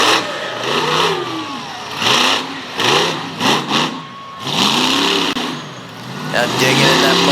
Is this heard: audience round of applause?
no